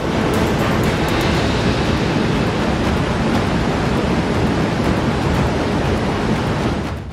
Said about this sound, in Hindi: देखिए बाढ़ का पानी कैसे घरों की दहलीज को लांघता और रिहायशी इलाकों को चीरता हुआ आगे बढ़ रहा है।